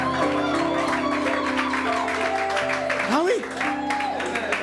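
A church congregation applauds and cheers the Lord, steady loud clapping and crowd noise with a voice shouting over it throughout.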